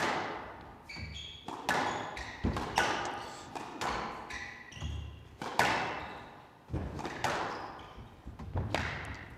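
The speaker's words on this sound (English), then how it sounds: "It's got to be the longest rally we've had" Squash ball struck back and forth during a long rally in a professional men's match at the Windy City Open, a steady series of sharp close thwacks and wall bounces with squeaking shoes in between.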